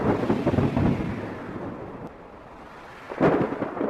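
Rain falls in a forest as thunder rumbles, with a deep roll at the start, a steady wash of rain, then a sharper second crack near the end.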